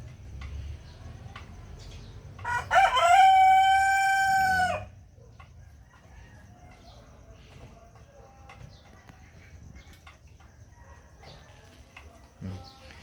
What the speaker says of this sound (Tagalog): tayo po ay bumabalik dito sa manukan para i-check po yung mga pagkain ng ating mga alaga